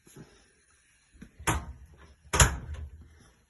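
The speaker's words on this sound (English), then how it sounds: "Close the door." An oven door in a home kitchen shuts, heard as two sharp thumps and clatters about a second apart among quieter handling sounds.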